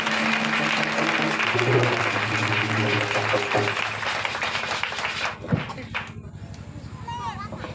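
A church revival congregation applauds and acclaims, dense clapping and cheering over music and voices for about five seconds, then thinning into quieter crowd sound with a single sharp knock.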